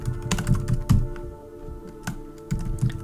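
Fingers type a name on a computer keyboard in quick, close bursts of clicking keys, pausing briefly in the middle before a few more taps.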